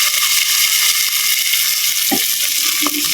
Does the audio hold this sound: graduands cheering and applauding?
no